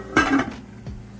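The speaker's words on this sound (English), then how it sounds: "I'm just washing out the basin that I season it up in with a small amount of water." A basin clanks against a hard surface while being rinsed with a little water in a home kitchen: one sharp metallic knock, a short rattle, then a fainter second knock.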